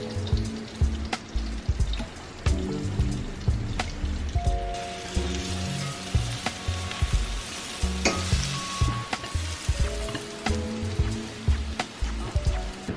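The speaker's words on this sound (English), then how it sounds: "I'm gonna mix a blend of butter and olive oil and kind of saute them in that." Fries sauté in a blend of butter and olive oil, with a continuous close sizzle and repeated scraping, stirring knocks from the pan throughout.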